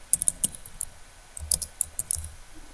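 Quick, light clicks of someone typing on a computer keyboard come in short irregular bursts, close and fairly quiet, with no talking.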